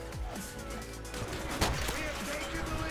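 Anti-tank rifle gunshot in a first-person shooter video game, a single loud close crack within steady game noise, with a voice speaking over the action.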